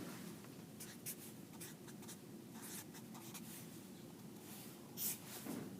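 Marker or chalk scratching steadily across a board while equations for kinematics are written out, a continuous close scraping with short pauses and no talking.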